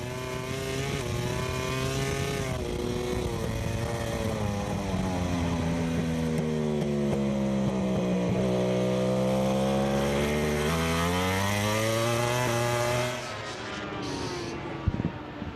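Ducati and Yamaha MotoGP racing motorcycles at the Le Mans Bugatti circuit, a loud continuous engine howl with rising and falling pitch as the bikes accelerate and shift, steady throughout before easing off near the end.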